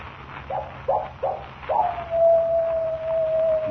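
A coyote howl sound effect for a radio drama: a few short yelping calls, then one long, steady, drawn-out howl, clear and moderately close over a low background hum.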